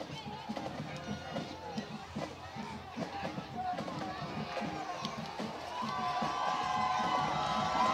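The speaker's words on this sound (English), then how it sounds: "Crowd getting loud once again." Home fans in a high school football crowd at Pearl River High School grow louder, a steady roar of cheering and babble that swells over the final seconds, with voices talking throughout.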